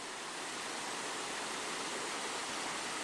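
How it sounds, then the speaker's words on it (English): Continuous loud rush of water pouring and splashing from a large iron or steel pipe into a creek, a steady close roar. "We got some free water flowing down here out the back end of this lovely thing"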